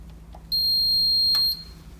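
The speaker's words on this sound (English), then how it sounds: "One beep means it is on." An ELKAtherm electric heater gives one clear, high-pitched electronic beep about a second long as it switches on, in an otherwise quiet room.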